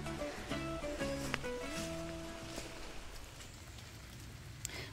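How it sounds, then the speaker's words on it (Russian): Steady rain patters through a forest in Ireland, with drops tapping on leaves and a few brief tonal chirps early on before the downpour continues alone. "Не самый лучший день для сбора грибов, потому что идет дождь."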